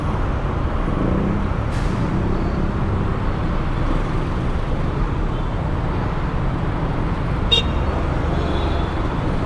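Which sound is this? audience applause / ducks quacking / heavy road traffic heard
heavy road traffic heard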